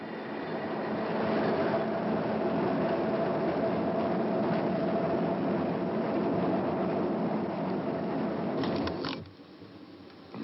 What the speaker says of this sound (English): we have the real sound of a subway train